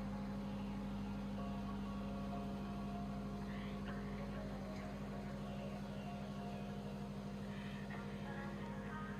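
An Onan 13.5 kVA generator runs in the engine space of a Discovery 67 yacht, a quiet, steady mechanical drone with a constant low hum and no change in pitch.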